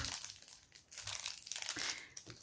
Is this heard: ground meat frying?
no